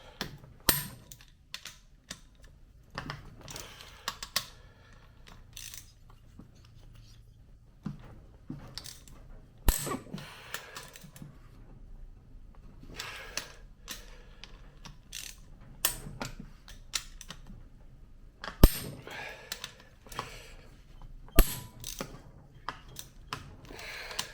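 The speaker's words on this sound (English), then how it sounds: "we're going to loosen these 4 acorn nuts and these 4 8mm bolts, and we're going to do it in a crisscross pattern" A hand ratchet loosens the cylinder head acorn nuts and 8mm bolts on a 2004 Honda CRF150 engine, giving repeated close clicking bursts with pauses between strokes and the odd metallic knock, fairly quiet overall.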